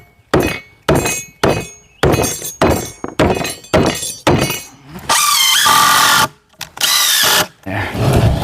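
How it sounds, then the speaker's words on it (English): Screws are driven and pieces knocked together while assembling a wooden mailbox post. Loud, close bursts of a power drill whine alternate with rapid thunks and hammer-like knocks in a choppy, uneven rhythm, with no talking. "We're gonna take our screws and put this thing together."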